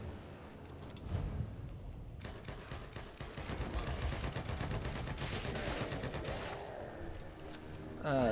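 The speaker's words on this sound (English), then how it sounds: "the assault rifle doesn't shoot fast enough" Automatic assault rifle fire in a video game, sustained bursts of rapid shots running nearly the whole stretch, loud and dense with a sharp burst near the start and another at the end.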